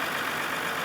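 A 1994 Massey Ferguson 399 four-wheel drive tractor with a 12x12 shuttle gearbox runs with a steady, loud, rough diesel drone, close by and unbroken.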